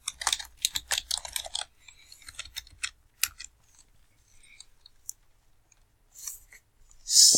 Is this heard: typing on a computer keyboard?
yes